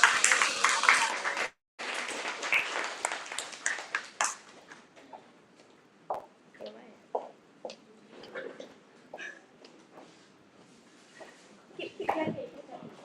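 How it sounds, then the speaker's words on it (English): Audience at a research seminar award announcement clapping loudly and densely for the first few seconds, then thinning into scattered claps with people talking over it. "Keep clapping."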